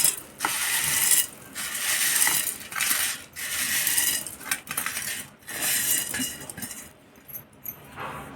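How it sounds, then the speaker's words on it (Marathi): A mixer grinder pulverises cooled sabudana (sago pearls) into powder: a loud, harsh whirring in repeated bursts with brief pauses between, close and with no talk, then quieter rattling at the end. "आता मी मिक्सरला लावून घेते, याची पावडर करून घ्यायची."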